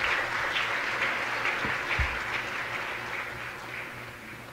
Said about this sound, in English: Please, let's give him a big applause.